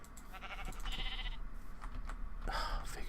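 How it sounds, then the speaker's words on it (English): Sheep bleating in Minecraft (FTB Infinity modpack), a couple of short nasal bleats standing out over low game background noise with faint keyboard clicks. "Hello, sheep."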